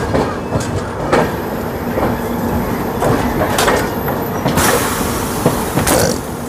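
Heard from inside a first-class cabin, the 22202 Puri–Sealdah Duronto Express rolls through the Narkeldanga car-shed area toward Sealdah station with a continuous rumble and repeated loud clacks and knocks from the carriage, close by.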